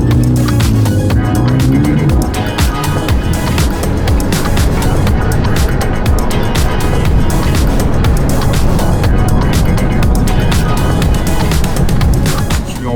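A Renault Mégane 3 RS gendarmerie car accelerates hard, its engine roaring loud and steady throughout with rising intensity and road noise.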